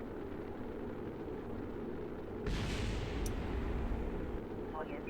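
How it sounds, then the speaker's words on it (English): Parts of a spacecraft service bay explode in Kerbal Space Program, a sudden loud burst that swells into a sustained rumbling roar over a steady background hum, with a brief sharp crackle partway through. "That was pieces of the service bay exploding near us."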